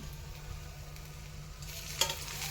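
Bitter gourd frying in oil for a crispy, spicy Karnataka-style sabji, with a low, continuous sizzle and soft stirring scrapes, plus one sharp clink of a utensil against the pan near the end.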